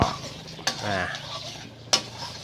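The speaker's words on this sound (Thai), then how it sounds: "เอาไข่ไก่ลงไป ยียีให้มันสุกสุกยียียีเขาเรียกยีไข่ในกระทะ" Chicken eggs are scrambled in a hot pan, with a soft sizzle under brisk stirring, a scraping rasp and two sharp spatula clacks against the metal.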